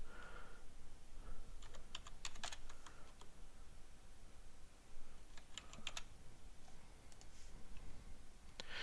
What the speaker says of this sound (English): Simply type in any text desired.